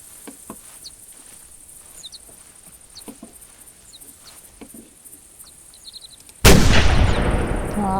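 A gunshot fires in the hunting video game Dang Birds: The Hunter, one loud sharp blast with a ringing decay that cuts through a quiet backdrop of crickets and faint bird chirps.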